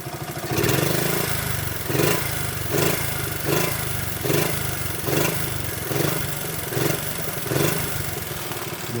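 A 1973 Honda Mini Trail 50cc engine idles slightly high, a close, steady small-engine putter with rhythmic surges roughly every three-quarters of a second.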